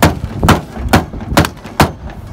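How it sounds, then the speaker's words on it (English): Five loud, sharp hammer blows strike a car body panel, pounding out a dent, evenly spaced about half a second apart with brief ringing decay. "we're just gonna like pound on the top part of the dent here to pop this bottom part back out"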